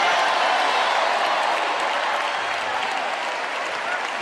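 Sustained crowd applause and cheering, a dense steady wash of clapping and shouts that holds at an even level throughout.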